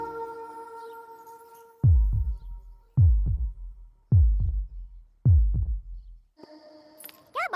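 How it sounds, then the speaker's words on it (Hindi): Heartbeat sound effect in a film score: four deep, booming double thumps at steady intervals of just over a second, loud and close over a faint sustained musical tone, ending in a brief bright chime. "अगर ये तुम्हारे पास रहेगी तो मेरी धड़कन तुम्हें सुनाई देगी।"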